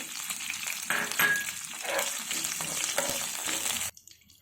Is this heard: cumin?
yes